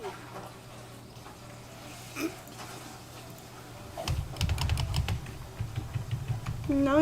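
Computer keyboard keys tapped while playing a comic book store simulator, sparse near clicks at first, then a denser burst of keystrokes over a low background hum, with a brief vocal sound at the end.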